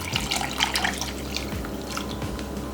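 Coconut water, beef stock and plain water are poured into a cooking pot for a Vietnamese beef stew, giving a close, continuous splashing and trickling with small drips.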